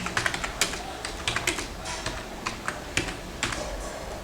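Rapid keystrokes on a computer keyboard while entering Java code, bursts of sharp clicks with short pauses between, close and clear with no talking.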